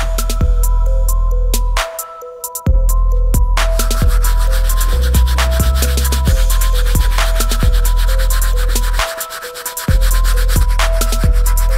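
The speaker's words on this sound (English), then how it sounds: "we're gonna move on to using the brass bristle brush to finish cleaning up the soles" A brass bristle brush scrubs the soles of suede Nike SB sneakers in loud, continuous rhythmic strokes, close and steady, broken by two short pauses.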